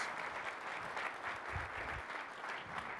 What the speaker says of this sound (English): Give this man a gigantic round of applause.